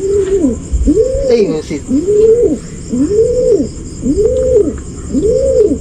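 Racing pigeons from a breeding pair coo in a steady rhythm, about six rising-and-falling coos close up, with a brief spoken exclamation early on.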